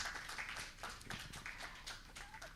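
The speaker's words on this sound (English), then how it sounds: "let's give a round of applause to the presenter here" Audience applause for a presenter at the end of a conference breakout panel session, dense overlapping claps at a steady level throughout.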